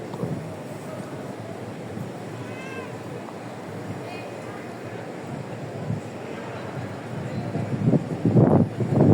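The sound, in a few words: strong wind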